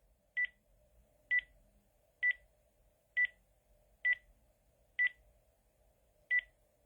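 Telephone keypad tones as a call is placed: seven clear, evenly spaced beeps at close range over near silence.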